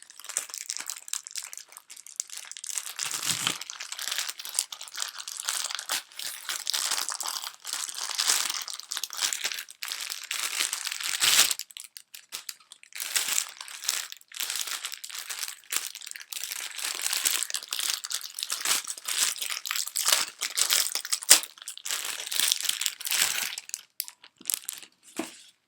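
A pink plastic package bag crinkles steadily for about twenty-five seconds as its top is cut open and handled, with dense, close rustling and crunching and no speech.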